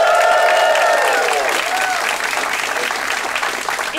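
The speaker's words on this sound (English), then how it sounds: "give me a round of applause, ladies and gentlemen, if you've ever heard the Do Go On podcast before" Applause and some cheering from the audience at a live comedy podcast show. It is loud and sustained, swells at the start, then thins a little while people talk over it.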